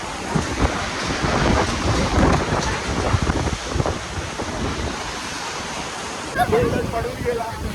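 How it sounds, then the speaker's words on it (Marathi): Rain and thunder at Candolim beach in Goa, a steady loud wash of rain and wind over distant surf, with deep rumbles and gusty buffeting on the microphone throughout. "पाऊस आहे."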